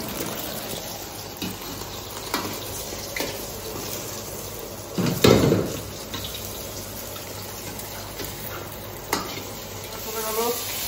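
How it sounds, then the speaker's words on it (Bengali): An egg fries in hot oil for mix fried rice, giving a steady sizzle with scattered stirring and utensil clinks, one louder scrape near the middle, and no talking. "অয়েলটা দিয়ে দিলাম ডিমটা ভাজার জন্য।"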